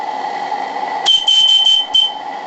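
A steam boiler with a gas tank placed against it sounds a warning: a shrill electronic beep pulses several times in quick succession, loud and close, over a steady mechanical hum.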